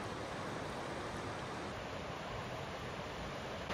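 Waterfall in Oregon's Umpqua National Forest, heard from a distance as a steady, even broadband rush of falling water with no talking.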